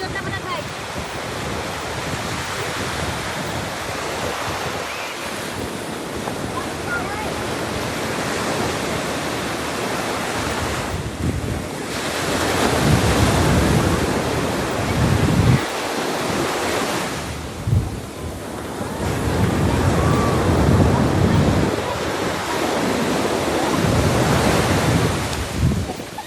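Sea waves break on the shore at Puri beach in a continuous, close roar of surf that swells into louder surges and then eases back. Wind rushes across the microphone throughout.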